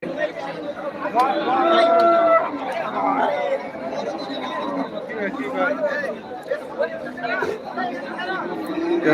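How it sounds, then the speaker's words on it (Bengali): At a cattle market, people chatter close by while cattle low and moo among them, in a busy, crowded mix of voices and animal calls. "গাভিন গরুগুলো দেখাচ্ছি আপনাদেরকে"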